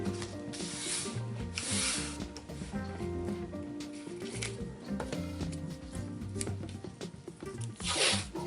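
Masking tape pulled off the roll and pressed along the bottom edge of a wooden charcuterie board, giving a steady ratcheting, ripping crackle with louder tearing bursts near the start and end.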